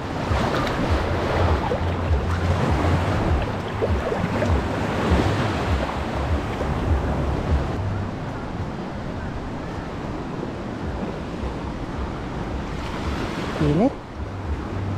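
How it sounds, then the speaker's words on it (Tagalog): Ocean waves rolling onto a shallow shore at Agno, Pangasinan, a steady loud wash of surf mixed with wind buffeting the microphone and a low rumbling hum throughout. "Kahit ano, kahit mababaw na, maalon pa rin."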